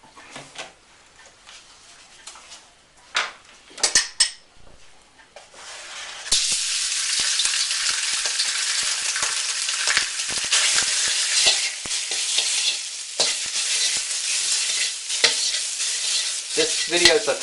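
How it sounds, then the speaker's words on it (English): Pork stir-fried in hot, smoking oil in a wok: a few clanks and bumps, then a loud, steady sizzle with frequent utensil scrapes and knocks that lasts to the end, no talk. "We're going to put some oil in here, and we're going to stir fry the pork."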